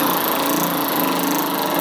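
A Ryobi 3/8-inch electric ratchet runs in a steady, continuous high-pitched whir, close and fairly loud, with no breaks across the short stretch and no voices.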